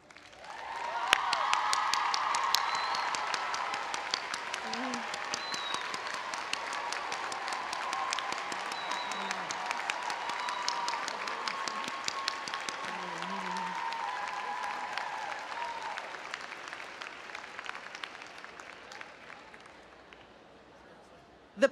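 A large commencement audience at a Simmons undergraduate ceremony applauds the graduates' families, a broad, steady wash of clapping from the crowd that holds for about twenty seconds before easing off.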